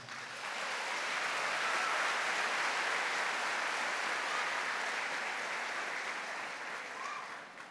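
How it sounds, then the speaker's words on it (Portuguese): Congregation at a Catholic worship service applauding, a soft, distant and even wash of many hands that swells in, holds steady for several seconds, then tapers off. "Aplauda o Rei de Israel."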